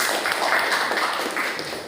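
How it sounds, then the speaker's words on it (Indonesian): A class claps for a student named Rafli during a teacher performance assessment session, a steady patter of many hands sounding close and moderately loud throughout, with no talking over it. "Kita kasih tepuk tangan buat Rafli."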